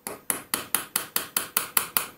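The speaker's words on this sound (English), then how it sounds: "To get that out, I'm simply going to use my punch to punch this round." A hammer strikes a punch to drive out the cap of a Land Rover Adwest steering box, nine sharp metallic blows at a steady quick rhythm, close and clear with no talk.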